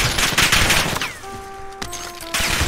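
Rapid gunfire from several players in a Call of Duty match, a loud burst of overlapping shots, then a brief quieter stretch with electronic tones, a sharp crack, and renewed firing.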